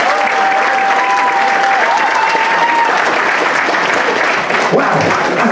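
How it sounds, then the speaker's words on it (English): A boxing crowd at an amateur skills-contest bout in Guildford applauds a young boxer being introduced. The steady, loud clapping runs throughout, with a ring announcer's voice faintly over it early on. "I'm liking those applause."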